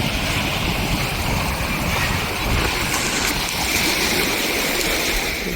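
Small waves wash in at Malin Beg beach, a continuous broadband rush of moving water that stays loud and steady without distinct breaks.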